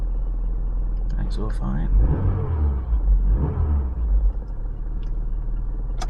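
A Rover 220 Coupe idles with a deep, steady engine rumble and swells slightly louder in the middle, while someone talks close by.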